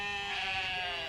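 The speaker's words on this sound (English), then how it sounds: "Are those sheep?" A single sheep gives one drawn-out, wavering bleat out on a golf course, clear and fairly close, with no voices over it.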